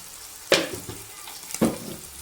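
Spices and chili powder are stirred into a prawn biryani masala in a pan, with a soft sizzle underneath and two distinct scraping strokes of the spoon close by.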